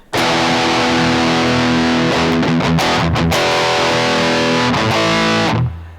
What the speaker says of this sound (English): Pedal on. Distortion set about halfway.